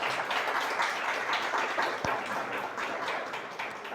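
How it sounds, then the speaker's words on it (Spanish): A church congregation applauds in praise during a Spanish-language service, a steady, dense wash of clapping that holds at an even level throughout with no talk over it. "y le da un aplauso al Señor"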